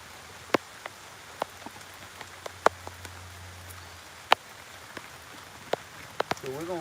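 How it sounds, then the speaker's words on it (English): Rain falls in a steady hiss on nearby surfaces, with scattered louder drops tapping close by and a faint low hum underneath. "It opened up and started raining in on me."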